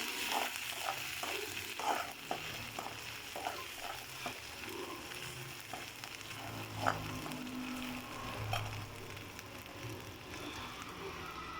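Cardamom and cloves are being sautéed in a pan, giving a soft continuous sizzle with light scraping and stirring taps, quiet and close, with a faint low hum in the background.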